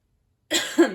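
A single short, raspy cough with a harsh throat-clearing catch, close and abrupt after silence.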